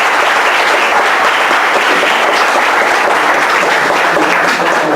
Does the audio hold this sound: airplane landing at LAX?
no